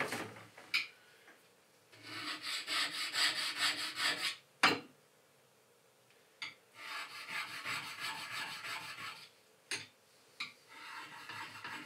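A quarter inch chisel is sharpened with long raspy rubbing strokes in two bursts, close and quiet, broken by a few sharp knocks and taps of the tool being set down.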